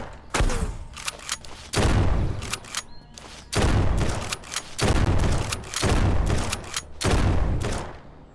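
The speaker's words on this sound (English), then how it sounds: "Bring out the shotgun." Shotgun blasts in the SurrounDead video game, about six loud booming shots in an irregular rhythm, each followed by a brief decay, with no talking over them.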